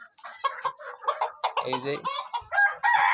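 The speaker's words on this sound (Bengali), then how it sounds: "এই জায়গায় আছে ফার্মি মুরগি। এইসব রাতাগুলা" Farm chickens cluck in quick, uneven bursts with a rooster crowing midway and again near the end, close and fairly loud, while someone speaks briefly over them.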